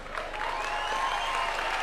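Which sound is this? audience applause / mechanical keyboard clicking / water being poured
audience applause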